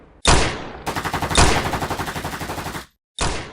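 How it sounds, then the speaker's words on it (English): Dramatic gunfire effect: a sharp single shot, then a rapid automatic burst of evenly spaced cracks lasting over a second, then another lone shot, all loud and close with no talk. "Then, out of nowhere, gunfire erupted."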